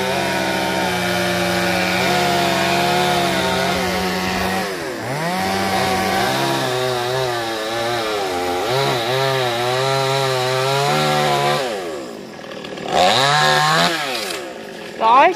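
A chainsaw roars close by, its engine pitch rising and dropping as it bites into rubber tree branches, then briefly idles and revs again near the end.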